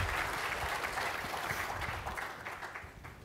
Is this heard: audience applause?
yes